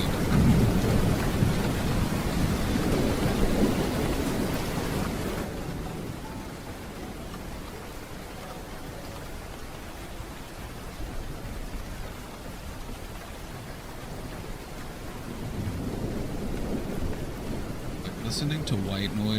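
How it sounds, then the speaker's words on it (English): Steady rain pours down while low thunder rumbles, heavier at the start and end, a continuous enveloping wash of sound. "But what I like to do is I like to do rain sounds."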